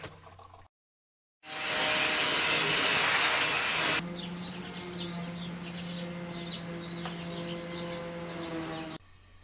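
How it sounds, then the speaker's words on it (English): A laminate trimmer router cuts through Formica plastic laminate in a workshop, giving a loud, steady high-pitched whine that starts abruptly after a short silence and continues at a lower, rougher level with some chirping overtones. "For me, the easiest way to cut plastic laminate, like Formica or Wilson Art is another brand name, is to use a laminate trimmer."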